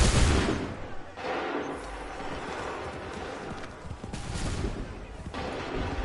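Musket volleys boom across an Assassin's Creed 3 battlefield, several broad, heavy discharges spaced a second or two apart over rumbling battle noise.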